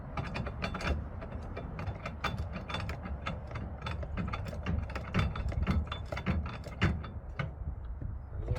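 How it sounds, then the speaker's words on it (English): A ratchet wrench clicks rapidly and steadily, close up, tightening a FastGun Apex truck camper turnbuckle from Torklift, the pawl ratcheting in quick repeated strokes with no talking. "Alright, tighten her down a bit."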